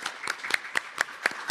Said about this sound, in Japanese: 最後に、カバート事務局長、はじめ、本日ご講演をいただきました先生方に今一度、盛大な拍手をお願いいたしたいと思います。